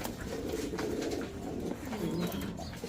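Pigeons coo steadily at close range, including a pair of Spanish pigeons and a red hen, with soft overlapping throaty calls running through the whole stretch against a busy bird-market background.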